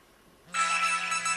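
A BlackBerry phone sounds its SMS message alert tone, a loud bright sustained electronic chime that starts abruptly after a quiet moment and holds steady to the end.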